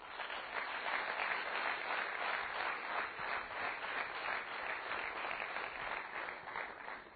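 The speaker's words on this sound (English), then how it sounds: "Can we all put our hands together?" At a business school annual day, an audience gives a sustained round of applause that stays at an even level throughout, a dense wash of many hands clapping heard faint and muffled, with no talking.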